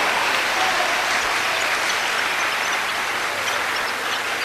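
A church congregation applauds together in steady, dense clapping that fills the space loudly and continuously from start to finish, with no voices rising above it.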